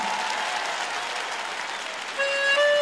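Steady clapping from a concert audience in Crocus City Hall fills the whole stretch, dense and even, with a brief tonal note rising near the end.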